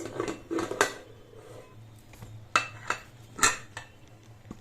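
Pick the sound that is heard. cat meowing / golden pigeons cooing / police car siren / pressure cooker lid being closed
pressure cooker lid being closed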